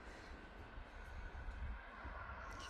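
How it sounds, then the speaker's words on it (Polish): A train passes by near a lakeside pier, a steady broadband rumble with clatter that swells slightly in the middle and continues throughout, moderately distant. "Pewnie było słychać też akurat przejeżdżający pociąg."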